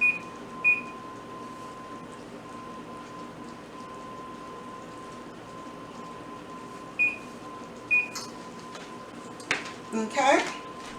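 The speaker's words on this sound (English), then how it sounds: "Okay, put a timer." A kitchen timer is set while lemon chicken with mushroom gravy cooks, giving a few short, clear electronic beeps near the start and again later over a quiet kitchen hum.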